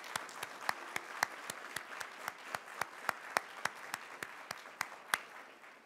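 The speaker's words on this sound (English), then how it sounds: "Can we give a round of applause for them?" Modest audience at an awards gala giving a round of applause, with distinct, fairly sparse claps in a rhythmic pattern, moderately quiet and alone without talk.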